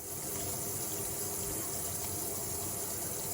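Water runs steadily from a tap at a shaving sink, a continuous even gush with no talk over it.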